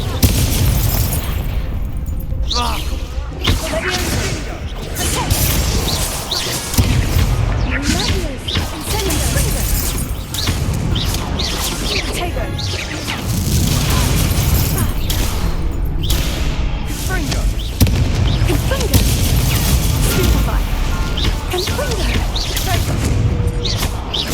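Repeated Confringo spell explosions from the Hogwarts Legacy video game, loud booms and whooshes bursting every second or two in a dense, continuous battle mix with game voices calling out.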